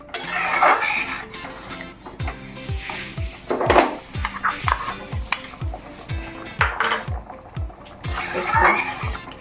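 A spoon scrapes and knocks rhythmically against a metal pot while fruit chutney is stirred, giving a regular series of clear clanks with short bursts of wet mixing. The stirring is close and fairly loud, and no one speaks.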